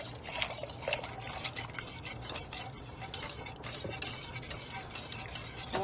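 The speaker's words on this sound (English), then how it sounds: "we're going to add our heavy whipping cream in now and keep stirring." Heavy whipping cream is stirred into homemade mac and cheese in a pot, a close, rhythmic scraping and clicking of a utensil against the pan.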